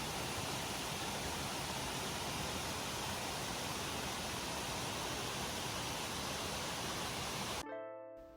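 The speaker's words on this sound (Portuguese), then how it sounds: "Uma linda queda d'água bem aos pés do Monte Ben Nevis foi a grande recompensa no final da trilha" A waterfall at the foot of Ben Nevis in Glen Nevis in the Scottish Highlands roars as a steady, dense wash of falling water, loud and continuous, cutting off abruptly near the end.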